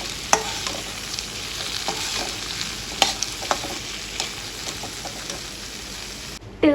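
Masala vermicelli mixture being stirred in a hot pan, with steady sizzling and frying and sharp scrapes and clinks of the spoon against the metal at irregular intervals, close and fairly loud, with no talking.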